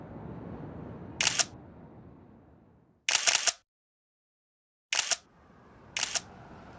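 Four separate SLR camera shutter clicks sound at irregular intervals, each crisp and close. Between them is soft background hiss, with one stretch of complete silence.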